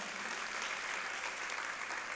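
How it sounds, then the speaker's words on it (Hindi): Faint, steady applause from an audience at a Jain religious discourse, with clapping sustained evenly throughout and no voices over it. "एक बार तालियां बजाओ अपने लिए"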